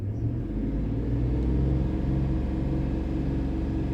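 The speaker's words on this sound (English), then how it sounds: "let me see if I can rev it up" A car engine with a dirty mass airflow sensor runs steadily under a low, continuous rumble, held at raised revs without a sharp climb.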